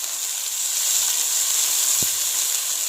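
Tomatoes frying in a pan with half-fried onions give a steady, close sizzle and hiss throughout, with one brief low knock partway through.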